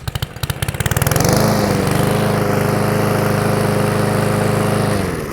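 A SENIX 144cc gas engine on a 21-inch lawn mower starts with rapid putters, catches and rises to a loud, steady running drone close by, then begins to wind down at the end.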